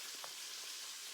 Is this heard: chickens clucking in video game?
no